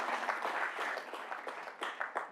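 Audience applause at a university school of education's annual address, a steady wash of many hands clapping at moderate distance with a few sharper bursts near the end.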